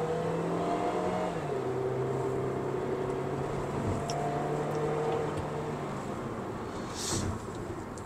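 A JAC S5 GDI with a dual-clutch gearbox accelerating, its engine drone holding steady and loud throughout with a gear change early on, a continuous close interior hum.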